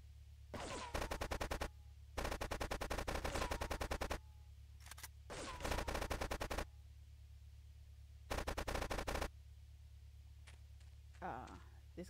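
Automatic gunfire in GTA 3 Definitive Edition comes in several loud, rapid bursts of shots, separated by short pauses, over a steady low game hum. Some short sounds come near the end.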